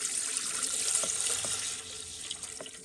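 Tap water runs from a faucet into a container used for cleaning an S&W 317 revolver, a steady close hissing splash with small gurgles and no talk.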